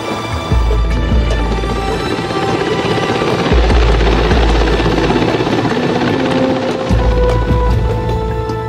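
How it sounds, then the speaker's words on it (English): An SU-33 fighter jet taking off from a carrier deck, a loud continuous engine roar with heavy low rumble that holds steady throughout, close by and alone without talk. "the SU-33 made its first deck takeoff"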